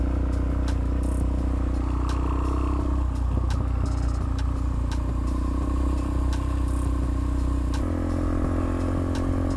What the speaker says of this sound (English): What is it that's rattling?